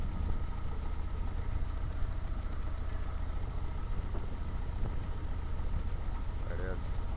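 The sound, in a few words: Atomic 4 sailboat inboard engine running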